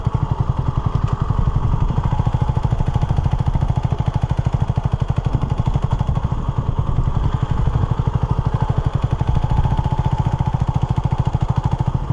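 Honda CB250RS motorcycle engine with a quiet silencer running on a green lane, a steady close rhythmic thrum with a fast, even beat throughout and no talk.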